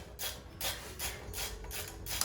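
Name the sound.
popping off brake caliper pin caps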